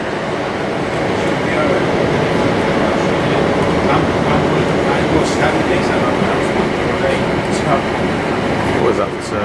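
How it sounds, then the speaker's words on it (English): A Network Rail inspection train rumbles past on a line between Durham and Bishop Auckland, a loud, steady roar with faint clicks of wheels, and a voice talks over it. "That inspection train, network rail train."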